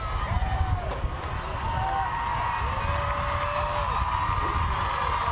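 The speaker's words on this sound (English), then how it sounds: "listen to this roaring crowd here" A crowd in the stands at a high school powderpuff football game cheers and shouts steadily, a broad continuous roar with scattered whistles and yells, mid-distance and fairly loud.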